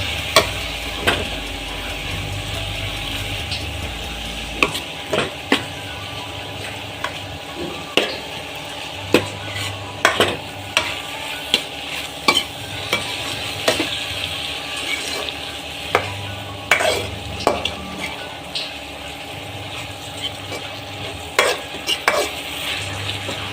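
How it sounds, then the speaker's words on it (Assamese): A spoon stirs and scrapes food in a cooking pan for koldil dimr juti, a curry of banana flower and eggs. Sharp knocks against the metal come at irregular intervals over a low, continuous sizzle, close up with nobody speaking. "এইখিনি মই ভালদৰে লৰাই দিম।"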